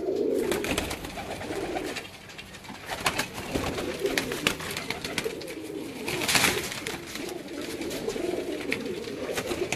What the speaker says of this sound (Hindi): ये कबूतर बहुत अच्छा है।